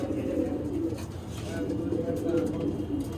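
Pigeons nesting on eggs coo in soft, low, repeated rolling calls, close by and continuous, while someone talks over them.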